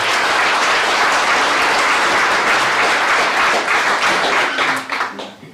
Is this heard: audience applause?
yes